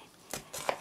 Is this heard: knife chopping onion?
yes